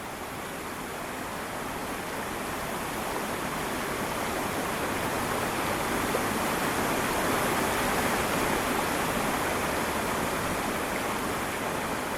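Steady, dense rushing roar of the Storfossen waterfall in Norway, continuous and loud throughout with no pauses or voices, heard close by.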